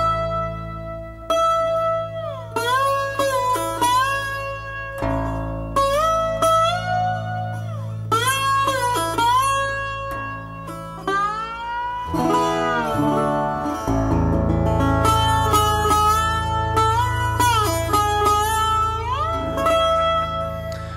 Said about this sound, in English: 8-string baritone Tricone resonator